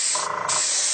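An airbrush sprays cake decoration through a stencil, producing a loud continuous hiss for about a second that briefly dips in the middle.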